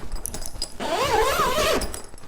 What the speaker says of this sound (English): It also completely zips up